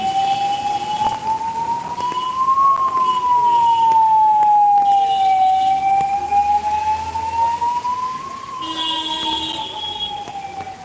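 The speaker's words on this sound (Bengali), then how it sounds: "ইতিমধ্যে একটা অ্যাম্বুলেন্সও আসছে" An ambulance siren on a Kolkata street in heavy monsoon rain, a loud continuous wail slowly rising and falling in pitch over a constant wash of rain and traffic noise.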